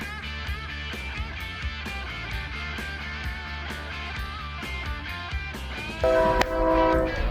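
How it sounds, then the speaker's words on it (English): A train rumbling past in Clewiston, Florida, with a steady low roar and rhythmic clatter, a horn sounding toward the end; heard from a moderate distance. "Trains go through here all day long, all night."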